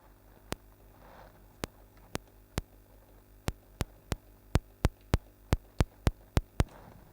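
Synthesized rim shot from a Frap Tools modular synth, a series of sharp, clicky electronic hits, sparse at first then settling into a steady rhythmic pattern over a faint mains hum, alone with no voices.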